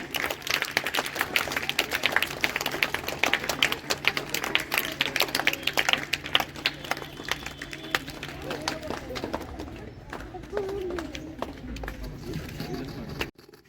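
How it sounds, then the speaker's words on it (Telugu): Audience at a stage event welcoming a guest with applause, a dense burst of clapping from a nearby crowd that thins out and fades toward the end. "Claps please."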